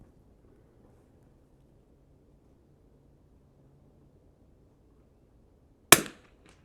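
A single sharp crack from a Winchester 52C rifle firing Eley Match ammunition at a 100-yard target, loud and close after several seconds of quiet outdoor background, with a short decaying tail.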